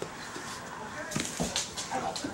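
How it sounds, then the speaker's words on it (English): A dog at home gives a few short, high whimpers and yips, close by and fairly faint, while people talk over them. "Oh, it's okay. It's just a dog."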